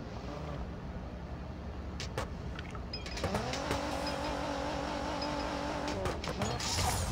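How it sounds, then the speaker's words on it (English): A race car launches off the line in the Need for Speed No Limits mobile racing game, engine droning low then rising into a steady revving whine, with sharp clicks and a tire squeal near the end. "Perfect launch off the line."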